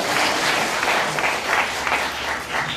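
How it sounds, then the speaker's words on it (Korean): An audience at a literary concert gives a steady round of clapping that stays fairly loud and continuous throughout, with faint crowd murmur beneath. "박수 부탁드리겠습니다."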